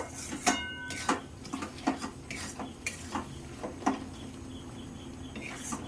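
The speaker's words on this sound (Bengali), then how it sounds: "আরেকবার আমটাকে আমি নাড়াচাড়া করে দেবো" Mango pickle being stirred with a spice mix in a pan, a close-up series of irregular metal spoon scrapes and clinks against the vessel with a light sizzle beneath, no speech.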